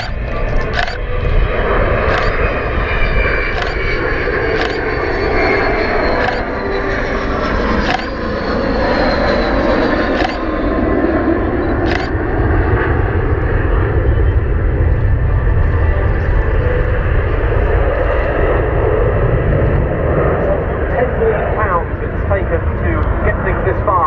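An Avro Vulcan XH558 jet bomber making a wingover at an air show display, its engines producing a loud, continuous roar with rumbling low end, steady throughout, with sharp crackling pops.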